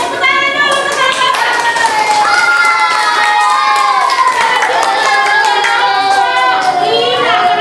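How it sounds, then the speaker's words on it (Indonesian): Schoolchildren in a fourth-grade classroom applaud a group with rapid, loud clapping, mixed with lively overlapping children's voices calling out throughout. "tepuk tangan dulu untuk kelompok"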